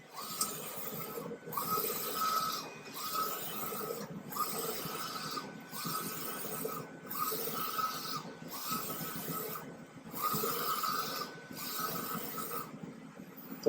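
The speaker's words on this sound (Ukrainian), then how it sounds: "Тож процес друку в нас завершений." A vinyl film printer runs through a t-shirt transfer print, its head sweeping back and forth in steady passes with brief pauses between strokes, a close, continuous mechanical whir and rasp.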